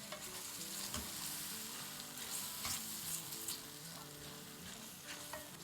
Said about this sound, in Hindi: अब मसाले को, दही को अच्छे से भूनेंगे।